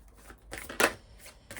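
Oracle cards are shuffled by hand, with a few quick, close riffling and slapping bursts of paper flutter separated by short pauses.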